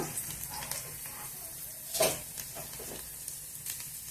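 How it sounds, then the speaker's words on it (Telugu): Garlic pieces, mustard seeds and cumin sizzle in hot oil, a soft steady crackle with a brief louder burst of spatter midway and a few light stirring clinks. "ఆయిల్ వేడైంది ఇప్పుడు సన్నగా తరిగి ఉంచుకున్నాం కదా వెల్లుల్లిపాయ ముక్కలు వెల్లుల్లిపాయ ముక్కలు ఆవాలు జీలకర్ర"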